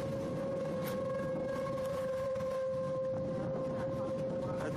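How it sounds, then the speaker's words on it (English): Tornado warning sirens wail in the distance during a storm in Rockford, Illinois, a steady sustained tone holding faintly over outdoor ambience, with no speech over it. "There goes the warnings again. Sirens."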